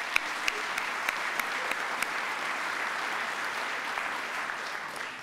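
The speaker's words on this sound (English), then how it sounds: "Let's give them a round of applause." A gala audience at a civic and community awards ceremony applauds honorees, a steady even wash of clapping in a large hall with a few sharper claps standing out.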